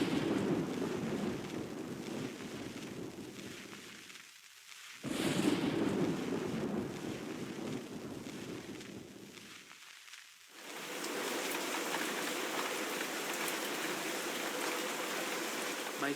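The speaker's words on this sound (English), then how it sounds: "a terrible storm began to rage, washing away the sound of my footsteps" A thunderstorm with heavy rain rages in the Nancy Drew game The Secret of the Old Clock, low rumbling thunder rolls separated by sudden hushes before a steady downpour takes over.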